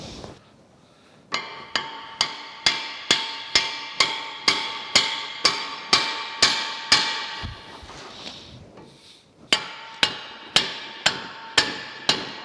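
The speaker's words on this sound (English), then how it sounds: "I'm going to have to get my hammer and tap that on there." A hammer taps a reversing gear arm onto its keyway on a Vulcan steam locomotive. About twenty sharp metallic strikes ring out at a steady, even pace, close and loud, with a short pause partway through.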